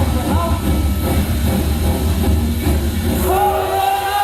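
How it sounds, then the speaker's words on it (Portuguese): Locomotive train rumbling along rails during a stage show marking 150 years of Santo Ângelo, a loud, continuous low rolling drone with faint voices and tonal calls mixed in. "O som da locomotiva sobre os trilhos."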